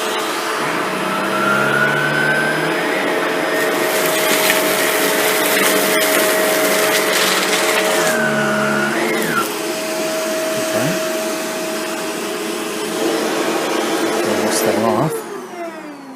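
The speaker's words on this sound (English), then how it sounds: "Now let's turn on the Shark. It's quite a bit quieter, it seems, off the bat, and the Shark is also on low pile carpet setting." A Shark Rotator NV752 vacuum cleaner runs on low pile carpet with a loud, steady drone that shifts slightly as it moves, then drops off near the end.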